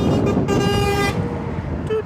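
A truck on the M5 motorway near Highbridge, Somerset, sounds a tooting horn, a bright sustained blast over constant roaring traffic, followed by a second short toot near the end.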